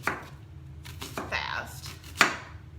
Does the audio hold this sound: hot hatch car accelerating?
no